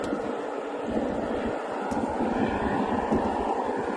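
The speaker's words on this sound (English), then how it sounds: "Sounds like an airplane." Steady broadband roar of an airplane passing overhead at Port Canaveral, a constant rumbling drone that holds evenly throughout, moderately loud with no voices.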